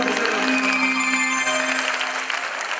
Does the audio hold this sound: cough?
no